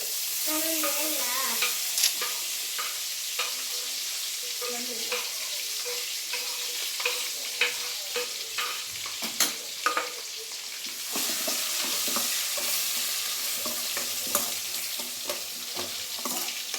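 Spices for a tempering fry in hot oil in a pan, giving a steady close sizzle with stirring scrapes and clinks throughout and a brief voice early on.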